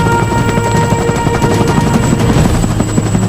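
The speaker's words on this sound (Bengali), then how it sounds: "এই হেলিকপ্টার আমি আবার দেখতে পাবো আমার অভিযানের শেষে ক্যারিবিয়ান উপকূলে।" A helicopter dropping off an expedition in rainy-season Panama, its rotor chop and engine roar loud and steady throughout with no voices.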